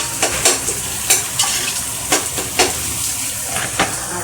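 Ginger garlic paste for biryani frying in a pan, a steady close sizzle broken by repeated sharp scrapes and clicks of a spoon stirring against the metal.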